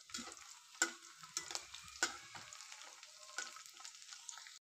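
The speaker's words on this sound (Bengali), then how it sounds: "এভাবেই আমি নাড়াচাড়া করে লালচে করে ভাজবো।" Kurkure snacks frying in hot oil while being stirred, a steady bright sizzle broken by several sharp scraping clacks of the spoon against the pan, close and fairly quiet.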